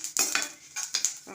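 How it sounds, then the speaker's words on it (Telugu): Curry leaves stirred in a hot pan with a metal utensil, a series of close scraping and clinking strokes in an irregular rhythm, with a faint sizzle underneath. "కొంచెం కరివేపాకు వేసాను"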